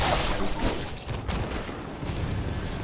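Gunfire in the action game Bloodborne, a dense, continuous burst of loud shots and booms filling the whole moment without any talk.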